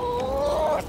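Pet hens in a city flat in Brooklyn giving a brief, close clucking call, a short rising vocal sound lasting under a second with no talk over it.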